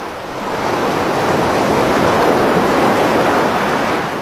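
Storm Claudia flood waves surge along the esplanade on Penarth seafront beside the pier. A loud, steady roar of surf and wind noise rises after the first half second and holds throughout, with no voices.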